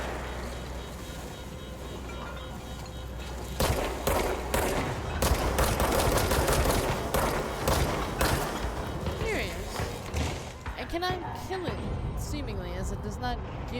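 Gunfire in the video game Control, a burst of rapid, loud shots and impacts through the middle of the stretch, with someone talking before and after.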